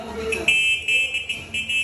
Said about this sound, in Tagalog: Pakita mo busina.